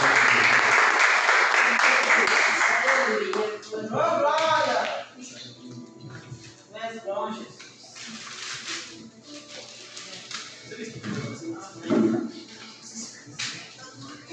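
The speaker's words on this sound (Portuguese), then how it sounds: "Uma salva de palmas" Church congregation applause follows a prayer, a dense burst of clapping for the first few seconds that drops off sharply, then gives way to scattered voices, shuffling and a few stray claps.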